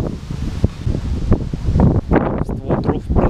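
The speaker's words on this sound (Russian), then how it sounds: "вот такой вот сильный ветер вас вообще не пугает" Strong wind gusting outdoors at a seaside resort, roaring loudly into the microphone with rustling and buffeting bursts that build toward the end. No one speaks.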